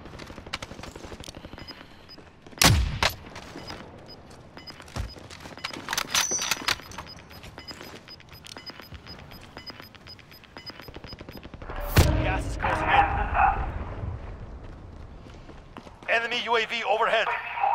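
Gunfire in Call of Duty Warzone, sharp scattered shots and short bursts near and far, with a heavy burst of automatic fire later, under players talking.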